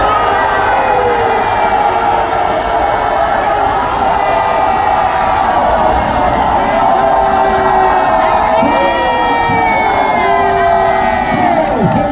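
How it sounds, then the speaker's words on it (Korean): A large crowd at an outdoor political rally claps and cheers continuously, with loud shouts and whoops rising over sustained applause throughout. "박수를 모시겠습니다."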